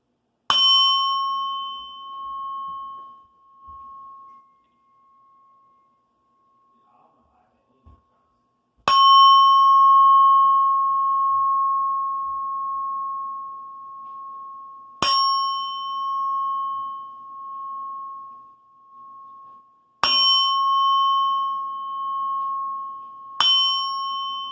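A meditation bell rings five times with long pauses between strikes, each a clear, bright metallic strike that sustains a pure ringing tone and slowly fades, with faint breathing audible in between.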